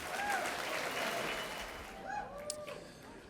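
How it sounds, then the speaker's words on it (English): An audience gives a round of applause for sponsors at a pro-life event, a fairly soft spread of clapping that thins toward the end, with a few faint squeaky sounds near the finish. "a big round of applause"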